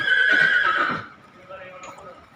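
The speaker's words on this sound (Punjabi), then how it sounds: "ਬਾਦਸ਼ਾਹ ਦਰਵੇਸ਼ ਗੁਰੂ ਗੋਬਿੰਦ ਸਿੰਘ ਮਹਾਰਾਜ ਦੇ ਸਿੰਘਾਂ ਦੇ ਘੋੜੇ" A horse from a stable at Sachkhand Sri Hazur Sahib lets out a loud, close whinny lasting about a second, then fades into quieter snorting and shuffling.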